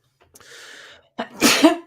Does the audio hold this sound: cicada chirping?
no